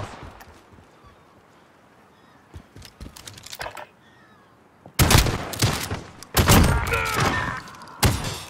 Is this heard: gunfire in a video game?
yes